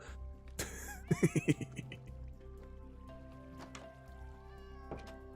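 Odd whinnying, neighing cries of skeleton horses in a video game ring out in a quick series of pulses over a low hum, followed by scattered clicks and drips.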